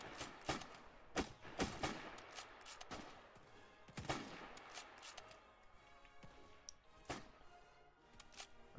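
Musket volleys from soldiers opening fire in the Roblox survival game 55 Days at Peking: repeated sharp gunshot cracks, some single and some clustered, over a steady background din with no talk.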